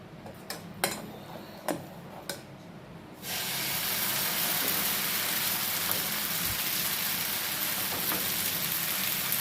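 Sprouted green gram adai batter hits hot oil in a pan and bursts into a loud, steady hissing sizzle that continues evenly, after a few earlier light clinks and taps.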